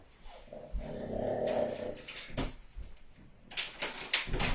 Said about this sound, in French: je crois que j'ai mon chien qui veut sortir